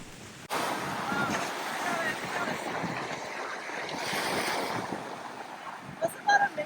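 Ocean surf rolls and washes in a broad, steady rush heard out on the water while surfing, with gusts of wind buffeting the microphone and a few brief sharp noises near the end.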